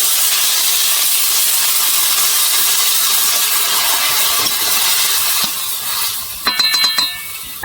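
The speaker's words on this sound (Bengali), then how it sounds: "আমি এখন জল দিয়ে দেবো পরিমাণ মতো।" Water poured into a pan of simmering Bengali banana flower and prawn curry sets off a loud, steady steam hiss that continues without a break. Near the end it eases slightly, and a few short metallic clinks sound.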